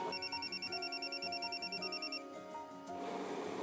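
A telephone rings with a steady warbling electronic trill, repeating in quick pulses for a couple of seconds before stopping, clear and moderately loud in an indoor room.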